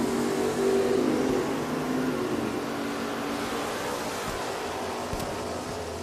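At Richmond Dragway, a 1971 Camaro roars in drag racing, its engine a broad, steady rumble that swells early and then holds as a sustained drone, heard from a distance with outdoor ambience.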